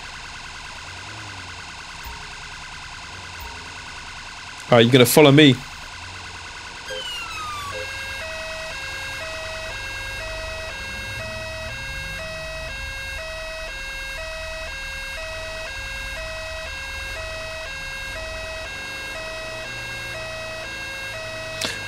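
An ambulance siren in GTA 5 wails in a steady, repeating electronic pattern for most of the stretch, after a brief loud burst of another tone; a voice speaks once early on.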